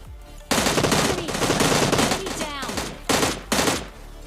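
Rapid automatic M16 rifle fire in a mobile battle royale shooter: loud, dense bursts of shots, a long one followed by two shorter ones, with faint game sounds in the gaps between them.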